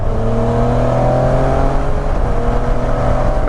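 A motorcycle accelerates hard enough to spin its back wheel, its engine droning loud and close with a rising whir throughout and no speech over it.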